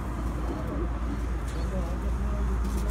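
A pigeon on a rooftop coos softly beneath steady male conversation, its low calls partly masked by the talking and a constant background hum.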